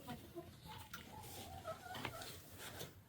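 Chickens clucking quietly in a farm barn at bedtime, scattered soft clucks and chirps from several birds at close range over a faint background hum.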